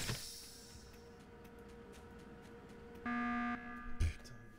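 A harsh emergency-meeting buzzer from the video game Among Us blares for about half a second partway through, standing alone over a faint game background hum with a brief thump after it.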